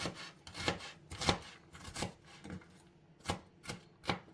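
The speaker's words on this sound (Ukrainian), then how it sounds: "І залишилося тільки покришити цибулю. Я кришу її теж кубиком дрібненьким." A knife taps quickly on a cutting board, finely dicing onion, a series of soft rhythmic chops with brief pauses, close and fairly quiet.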